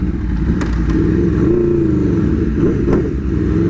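An Aprilia RSV4 Factory motorcycle engine running close up, a loud, continuous throaty roar with the pitch rising and falling slightly as the throttle is blipped, with a few sharp clicks, no talk.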